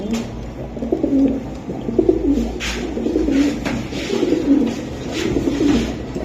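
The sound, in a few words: silver Giribaz pigeons cooing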